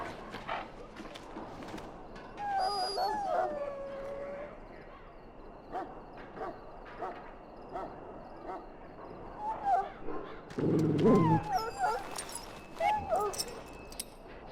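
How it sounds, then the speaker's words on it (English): In the Dragon Age: Origins video game, a sick dog whimpers and yips in faint, thin cries scattered over a quiet ambient background, with some footstep-like thuds and a brief louder burst. "Now I can treat the dog properly, poor fella."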